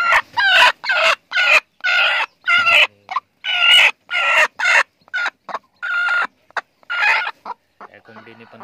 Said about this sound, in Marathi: ही बघा, इकडे कोंबडीने पण पिल्लू काढलेली आहेत.